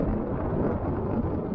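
Wind at the Great Salt Lake State Park marina, a constant dense rush of gusting air buffeting the microphone, loud and unbroken throughout.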